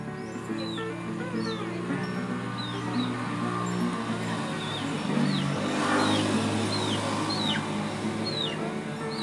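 Farm tractor engine running near cattle on a rock-floored farm, a low steady drone with a rise around the middle, heard beside chirping birds and someone talking over it.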